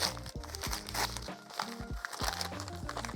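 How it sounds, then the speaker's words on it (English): Crinkling and crumpling of wrapping material as a thrifted decor item is unwrapped, close up, in irregular rustling bursts with soft handling thumps underneath. "The next item is here. I have to unwrap it. It's wrapped so well."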